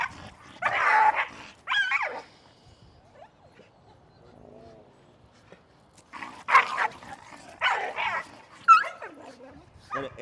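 A dog barks and yips in short, loud bursts at close range during a group dog-training class, with a person talking in between.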